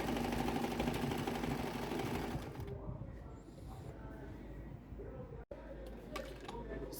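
Sewing machine double wefting hair bundles, a fast close mechanical stitching hum that runs steadily and then eases into quieter, uneven running with a brief stop.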